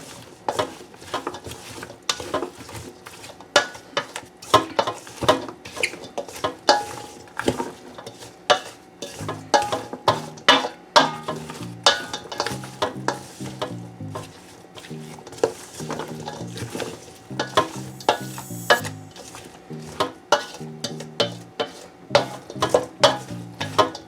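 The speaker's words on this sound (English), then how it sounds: "Stir this in" Salt is stirred into a Jamaican half-moon cucumber salad, making a busy run of close scraping and clinking utensil sounds against a bowl, uneven and continuous, with no talking.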